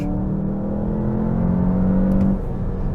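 A 2022 Volkswagen Jetta GLI accelerating hard with traction control off after launching from about 2,000 rpm: a loud, steady engine drone heard from inside the car, rising slightly in pitch and easing near the end, with no voices.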